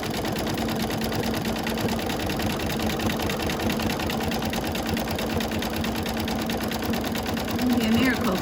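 An embroidery machine stitches a snowman quilt block in a rapid, steady mechanical whir with fast needle chatter throughout, a voice speaking over it.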